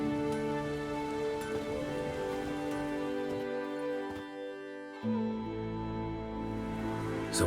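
Rain falls steadily in The Witcher 3 video game, a soft continuous hiss running beneath a sustained orchestral score, with no speech.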